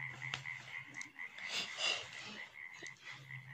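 A frog croaks with a droning, buzzy call that comes in repeated pulses, faint and somewhat distant against a quiet background, with no voices.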